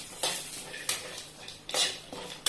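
Dry coconut is roasted in a pan on a low flame, with a spatula scraping and clinking against the metal in a few quick strokes, close and clear, with a faint background hiss.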